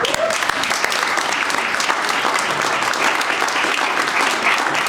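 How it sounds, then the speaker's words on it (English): A crowd at a university system celebration in a state house applauds steadily, dense continuous clapping from many hands filling the room at a strong, even level. "join with me in a round of applause for those folks"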